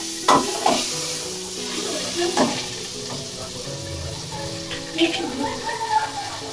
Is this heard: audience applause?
no